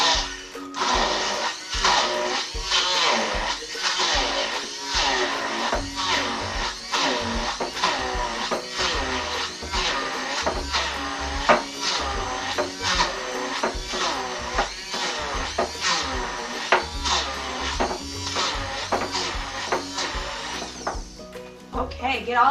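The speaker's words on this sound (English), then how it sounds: "I'm going to take my hand blender, or they call it an immersion blender" An immersion hand blender whirs through PB&J hummus in a loud, continuous motor drone with rhythmic pulsing as it churns the mixture, running nearly the whole time and cutting off at the end.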